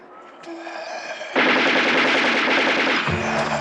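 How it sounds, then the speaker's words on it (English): Rapid gunfire bursts from a zombie horror film, loud and dense with quick repeating shots over a background score, the barrage swelling after a quieter opening and giving way to low rumbling near the end. "I hear gunshots!"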